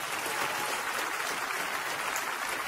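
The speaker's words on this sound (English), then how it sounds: "Shall we put our hands together and clap for the Lord?" A church congregation claps together for a short, dense and even stretch of applause with no pauses.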